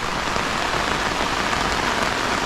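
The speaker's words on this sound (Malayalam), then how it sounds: "ഭയങ്കര മഴ കേട്ടോ" Heavy rain pours down in a loud, unbroken hiss, drumming steadily on surfaces all around with no pauses.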